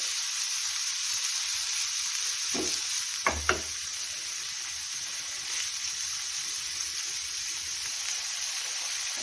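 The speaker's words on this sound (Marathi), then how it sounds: "एक दोन मिनिट आपण हे पनीर फ्राय करून घेऊया" Paneer fries in ghee for a mixed-vegetable pulao, giving a soft, even sizzle throughout with a couple of brief utensil taps near the middle, quiet and close.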